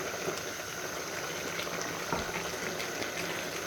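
Black chickpeas fry in oil in a pan, giving a steady, close, bubbling sizzle that holds at an even level throughout, with no voices over it.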